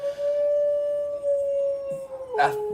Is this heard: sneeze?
no